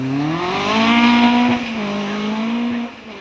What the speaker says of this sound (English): the Westfield rockets into the braking area for Martini